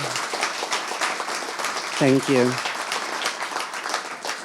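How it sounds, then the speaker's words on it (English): An audience at a talk event applauds steadily and fairly close, while a speaker briefly says a few words partway through. "if you can give an applause, because this law was finally passed"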